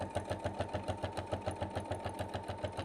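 Sewing machine stitching a bag lining seam, running steadily at a fast even pace with a regular pulsing rhythm of needle strokes, close and fairly loud with no talk.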